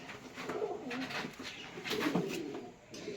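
Soft, low cooing from a female pigeon repeats in short phrases over steady background noise, fairly close.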